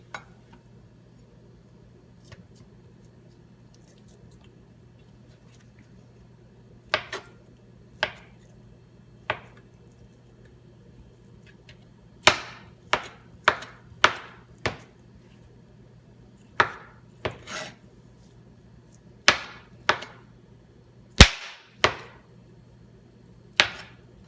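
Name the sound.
knife chopping tofu into small cubes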